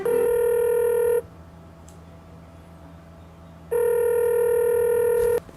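Two long, steady electronic phone tones separated by a pause, like a call ringing out on the line after dialing, loud and clear with no talk.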